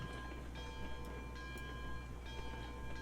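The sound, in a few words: train running in Railroads Online video game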